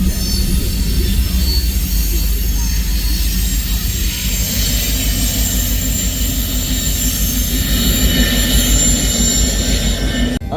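An eastbound freight train rolls past at Pacific Junction, Iowa, loud and close, its wheels grinding and squealing in a continuous roar lasting the whole stretch.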